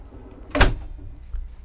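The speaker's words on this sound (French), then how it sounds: "un frigo-tiroir" A drawer refrigerator aboard a Sessa Marine C3X motorboat slides and shuts with a single short bump and rattle, fairly close, followed by a faint soft knock.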